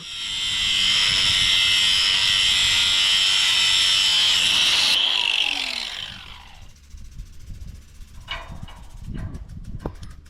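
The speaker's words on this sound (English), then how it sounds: "I think the easiest way to do this is to just cut it with the grinder" An angle grinder cuts through an old carriage bolt on a feeder, a loud steady high-pitched whine for about five seconds before the pitch drops as the disc spins down, followed by quieter clanks and handling noises.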